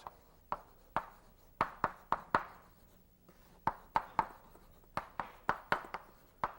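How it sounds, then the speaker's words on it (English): Chalk raps and scratches out Fourier's name on a board in quick, sharp taps that come in short bursts with brief pauses, close and clear with no speech over them. "Better write his name up"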